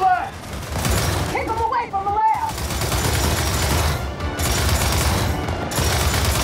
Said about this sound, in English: This is actually a new turret. I've never used these before.